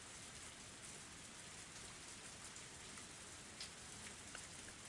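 Heavy, torrential rain from the Higurashi visual novel falls as a steady, dense wash of hiss and patter with no break, alone with no voices.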